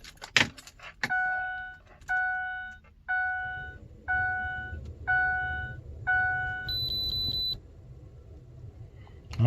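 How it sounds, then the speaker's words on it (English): A Ford F-150 ignition switched on brings a series of six evenly spaced chiming beeps, then a higher rapid tone, with keys jangling briefly at the start and faint hum underneath. "Put the ignition on."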